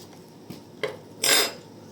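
A spoon clinks and scrapes against a bowl mixing apple and baking soda, light taps followed by a longer scraping stir, quiet and close.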